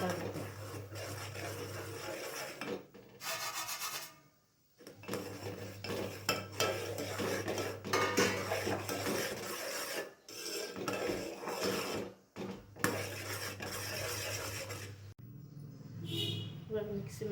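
Semolina being stirred into boiling water in a cooking pot for mango kesari bath, with steady scraping and clinking of a spoon against the metal pot, continuous and close, broken by brief pauses.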